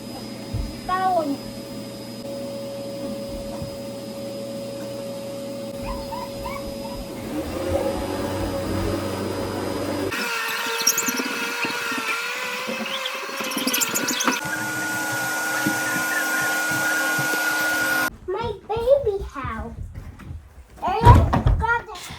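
A household vacuum cleaner runs during home cleaning, its steady motor hum shifting in tone as it moves and stops, with a cat meowing, door and cupboard knocks, and people talking intermittently over it.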